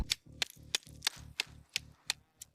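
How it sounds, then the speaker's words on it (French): Repeated sharp cracks and thuds of ice being broken to free an old Russian firearm frozen into thick ice, about nine evenly spaced strikes in quick rhythm, close and crisp. "Brisons la glace dès maintenant."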